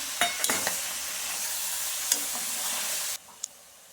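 Chicken pieces with mint frying in oil: a steady hiss of sizzling with a few sharp clinks of a spoon against the pan, cutting to a quieter sizzle near the end.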